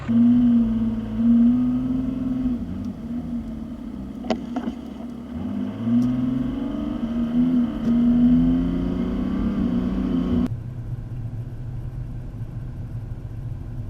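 A car driving on two-lane highways across Wisconsin, a steady engine and road drone heard from inside, pitch rising and falling with speed, then settling to a lower hum near the end.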